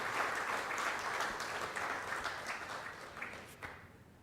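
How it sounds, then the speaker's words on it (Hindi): Audience clapping fills a pandal at a formal felicitation gathering, a dense, steady round of applause that holds strong for several seconds before gradually thinning and tapering off, with no voices over it. "सारे लोग जो पंडाल में हैं एक बार ताली बजा के उनका हार्दिक स्वागत कीजिए।"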